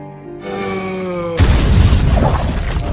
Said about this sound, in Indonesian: Hingga akhirnya tempat itu pun meledak.